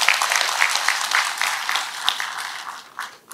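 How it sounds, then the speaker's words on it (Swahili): A crowd applauds a minister, a dense patter of many hands clapping close and loud, fading slightly toward the end. "So nataka mpigie waziri makofi kidogo."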